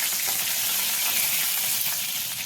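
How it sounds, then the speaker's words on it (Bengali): Steady, bright sizzling of fenugreek seeds frying in hot mustard oil left after frying fish, close and continuous with no voices. "খুব সামান্য পরিমাণে একটুখানি মেথি এখন ফোড়নে দিচ্ছি"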